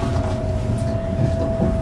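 A train rumbles steadily with a sustained low tone and dense noise, loud and close throughout, no voices.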